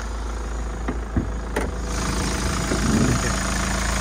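A 2019 Hyundai Palisade engine idles with a steady low hum, loud and close, joined by a few faint knocks and rustles partway through.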